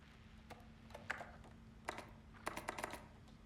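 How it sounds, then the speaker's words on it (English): Soft, creamy-sounding computer keyboard keys pressed in a quiet room, with scattered single taps followed by a quick burst of several keystrokes, close and faint. "Would you describe these keyboard noises as creamy?"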